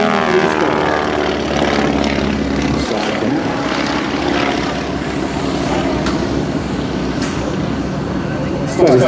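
A Stearman biplane engine drones loudly and steadily during aerobatics at a 2009 Langley AFB airshow, its pitch and strength wavering as the plane maneuvers, with a steady roar throughout.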